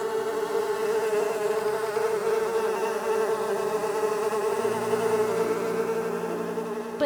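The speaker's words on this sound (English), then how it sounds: "The flies buzzed into the houses and filled Pharaoh's palace." A swarm of flies drones in a buzzing sound effect, a steady, close, unbroken whine with a slightly wavering pitch that carries on for several seconds with no other sounds.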